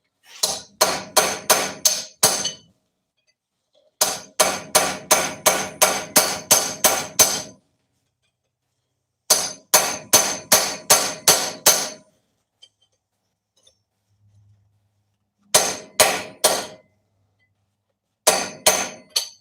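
A hammer strikes a homemade chisel as it cuts through metal, giving sharp ringing metallic blows in rapid bursts of five to nine hits separated by short pauses, loud and close.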